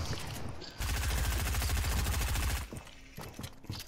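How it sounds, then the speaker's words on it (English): A minigun in a video game lets loose one long, rapid burst of dense gunfire, then gives way to quieter, scattered game sounds. "He has a minigun."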